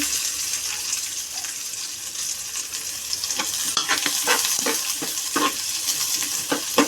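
Onion, garlic and curry leaves fry for a prawn masala while a spoon stirs them, a continuous close sizzle broken by repeated scraping strokes that grow busier toward the end, with no voices.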